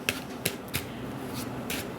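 Tarot cards shuffled by hand, giving a few sharp riffling bursts and soft flicks spaced irregularly, close and fairly quiet with no talking.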